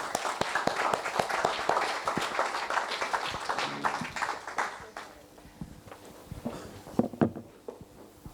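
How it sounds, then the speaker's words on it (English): A conference audience applauds the panelists after a closing panel discussion, with moderate clapping for about five seconds before it thins into a few scattered claps and faint room noise. "A big applause for all the panelists."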